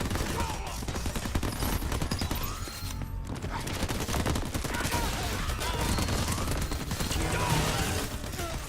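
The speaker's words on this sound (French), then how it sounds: "Il y a un fusil plasma." A plasma rifle fires in rapid, dense bursts amid chaotic Crackdown 3 combat, with near-continuous shots and explosions layered over music and game noise throughout.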